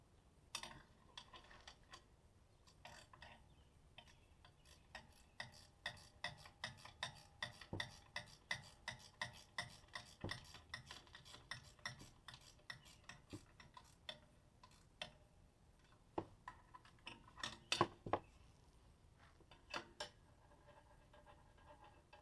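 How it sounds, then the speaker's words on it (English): A ratcheting gear wrench tightens the mounting bolts of a hydraulic trailer brake, giving quick runs of sharp, close clicks in uneven bursts with short pauses, with no talking. "Then what we do is we tighten up the mounting bolts."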